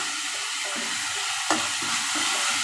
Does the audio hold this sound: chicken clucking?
no